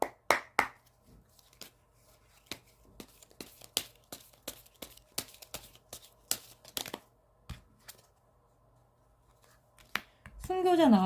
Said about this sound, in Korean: 그래서 제가 여기 흐름에 추억 카드 하나 더 뽑아볼게요.